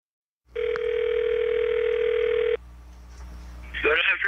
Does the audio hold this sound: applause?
no